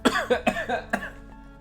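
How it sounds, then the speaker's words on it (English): A man coughing in a quick burst of five or so sharp, close coughs, the last one spaced apart before quiet. "apologies for coughing"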